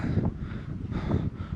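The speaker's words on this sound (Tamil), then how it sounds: "ஜில்லுன்னு காற்றடிக்குது" Gusty cool wind buffets the microphone in soft, low rushes that swell and fade twice, with no voices present, on Velliangiri Hills near Coimbatore.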